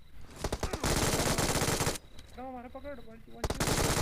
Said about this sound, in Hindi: मैं वहाँ पर फायर देता हूँ